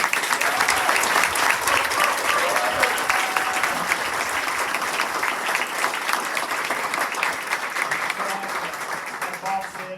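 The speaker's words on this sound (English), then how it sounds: "maybe we should give Christy Cheeks a round of applause" An audience applauds warmly at a school foundation recognition event, a dense, steady wash of clapping that holds for about ten seconds before thinning slightly toward the end.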